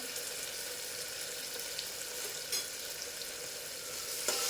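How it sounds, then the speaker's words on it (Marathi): Onion and tomato sautéing in a home kitchen pan, a steady close sizzle and hiss with faint stirring scrapes near the end, no talking. "छान असा परतून घ्यायचा कांदा टोमॅटो"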